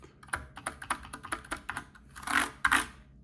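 Typing on a mechanical keyboard with KBDfans DSA keycaps and Gateron Silent Red switches, soft, muted keystrokes in an uneven close rhythm, ending in a couple of heavier clacks.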